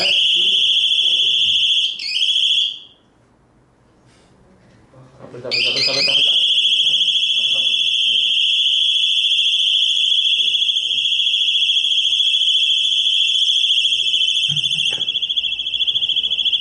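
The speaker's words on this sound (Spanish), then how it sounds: "es una sirena de alarma de coche" A car alarm siren plays from a mobile phone as a loud, piercing electronic tone. It cuts out briefly after about two seconds, then resumes and holds steady for a long stretch.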